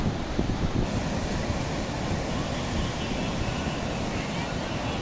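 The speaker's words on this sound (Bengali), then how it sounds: "আমাদের পিছনে যে সমুদ্রটা দেখছেন" Sea surf rolls onto the shore at Shahpori Island, Bangladesh, facing toward St. Martin's Island, a dense, loud, steady wash of waves blended with heavy wind buffeting the microphone.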